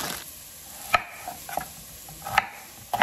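A kitchen knife chops vegetables into big chunks, potatoes among them: a few sharp, separated knocks on a cutting board, sparse and irregular, close by, with quiet room tone between.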